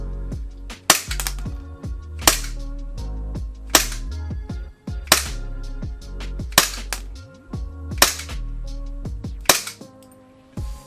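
Eight sharp, snappy shots from an RWA Agency Arms EXA airsoft pistol fired through a chronograph at a steady pace, each a loud crack with a brief ringing tail, no voices.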